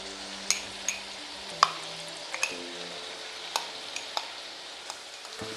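A paste of fried onion, green chili and tomato sizzles in a pan with potato and eggplant sabzi, steady frying under sharp intermittent clicks of a spoon stirring and scraping.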